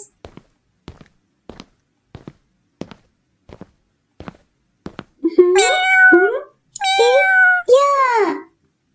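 A series of soft, evenly spaced taps or footsteps, then several loud, drawn-out cat meows close by.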